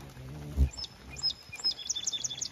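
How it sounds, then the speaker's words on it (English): A hummingbird darts past near a wooded deck, giving quick high chirps and a brief close buzzing whoosh, followed by scattered faint twitters in quiet outdoor air. "You just heard a hummingbird whiz by us."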